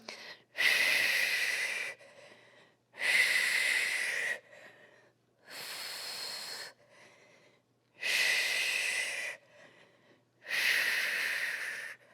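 Heavy, forceful breathing during a bench and band core workout with rowing moves, five long loud breaths in a steady rhythm, close to the mic, with quiet gaps between them.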